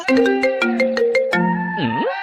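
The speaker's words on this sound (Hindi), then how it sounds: "पड़ोसन का फोन।" Phone ringtone playing a quick melodic tune of bright electronic notes ending in a swooping tone, loud and close, with no talking.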